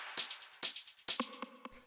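Dry acid techno percussion in a modern style, with no drum bus glue: three loud, bright noisy hits with punchy low thumps, then quicker clipped tonal blips and lighter ticks in a tight, busy pattern, alone and up close.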